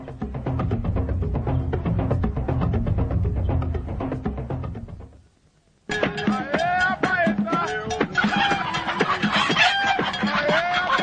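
Many chickens cluck densely and a rooster crows, loud and close, in two busy stretches separated by a brief moment of silence.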